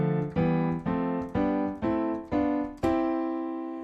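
Harmonic instrument, likely a keyboard, plays a sequence of triad chords, seven evenly spaced struck chords with the last one ringing out, loud and clear with no talking.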